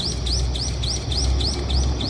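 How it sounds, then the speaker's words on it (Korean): A small bird repeats a bright rising chirp about every quarter second in a morning garden among potted succulents. The calls come steadily and clearly over a low rumbling background. "새소리가 아침에 싱그럽죠?"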